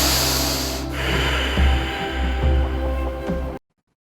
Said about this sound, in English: One more long breath.